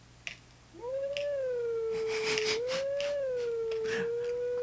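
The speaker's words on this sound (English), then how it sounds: "we're going to listen to some of the howling" A wolf howls in the video game Zelda: Twilight Princess, one long sustained howl that rises, dips and swells again, carrying clear overtones, loud and alone over a faint steady background hum.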